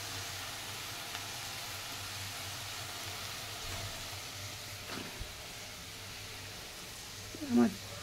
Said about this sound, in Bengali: তাই এবার আমি চাউমিনটা এর মধ্যে অ্যাড করে দেবো।